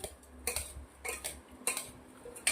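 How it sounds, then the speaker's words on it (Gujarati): A spoon stirs a healthy chana and moong chaat with salt and red chilli powder in a bowl, giving faint metallic clinks about every half second, with no talking. "હવે આપણે આને મસ્ત મિક્સ કરી લેવાનું છે"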